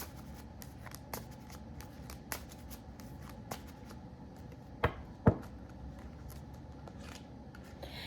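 Tarot cards are shuffled and drawn close by, quiet papery riffles and soft taps with two sharper snaps near the middle, in an otherwise hushed room.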